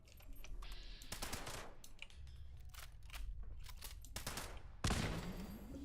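Turrets in the video game Fallout 76 rattle off rapid automatic fire, dense crackling bursts with brief gaps and a sharper burst near the end, moderately loud in a busy game soundscape.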